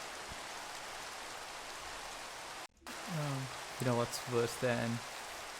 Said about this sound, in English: I should probably stop recording in the rain.